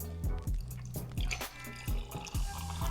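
Orange juice and cranberry juice poured together into a glass, giving a close, continuous liquid splash with repeated drip-like gurgles and no talking.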